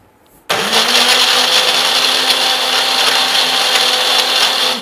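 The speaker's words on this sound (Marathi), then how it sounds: "मिक्सरमध्ये दही घुसळल्यानंतर अशा पद्धतीनं छान एक क्रीमी लेअर येते" A kitchen mixer blender churns yogurt and powdered sugar for lassi, switching on abruptly after a brief quiet moment and then whirring loudly and steadily at close range until the end.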